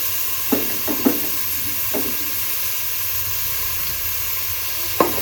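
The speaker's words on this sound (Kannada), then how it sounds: "ಕುಕ್ಕರ್ಗೆ ಆನಿಯನ್ ಹಾಕೊತಾ ಇದ್ದೀನಿ ತೆಂಗಿನ ಎಣ್ಣೆ ಹಾಕಿದ್ದೀನಿ" Onions frying in coconut oil inside a pressure cooker give a steady hiss and sizzle, with a few soft clinks of stirring over the continuous crackle.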